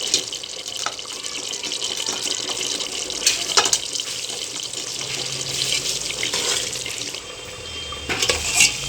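Water at a rolling boil in a pot of chicken biryani, a steady bubbling hiss that stays close and fairly loud throughout with brief clinks near the end and no talking.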